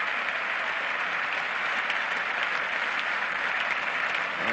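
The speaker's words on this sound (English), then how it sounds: "And getting a good round of applause too from the West Indian cricketers out there" Steady, dense applause from a cricket ground at a 1976 England versus West Indies Test match, with West Indian fielders and spectators clapping continuously and fairly far off, no voices above it.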